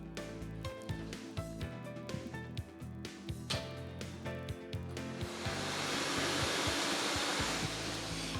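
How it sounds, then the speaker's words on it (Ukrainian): Lottery ball drawing machine switched on, a steady blowing air roar with rattling, clacking balls that swells into a louder continuous rush after several seconds. "Вмикаємо лототрон."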